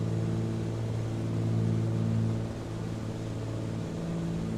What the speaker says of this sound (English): the sound of the engine is very relaxing